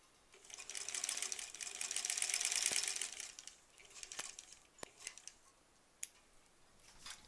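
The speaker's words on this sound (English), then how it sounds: "I'm gonna sew that" A sewing machine stitches improv-pieced quilt back pieces in a steady whirring run for about three seconds, then falls to a few scattered clicks and light handling taps nearby, with no voices.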